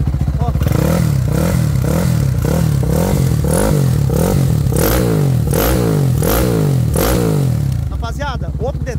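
A Twister motorcycle fitted with a 79mm kit and a balanced crankshaft is revved hard close by, about eight sharp rising blips in a quick rhythm before easing off, with no talking.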